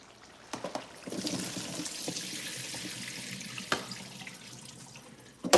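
Water runs steadily into a kitchen sink while fried food drains for sofrito, a broad rushing flow with a few sharp clinks and knocks, close and moderately loud.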